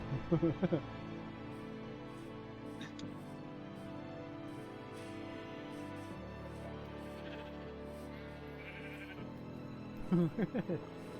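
Sheep on Anchor Island bleat loudly at the start and again near the end, wavering calls over a low hum of farm background noise.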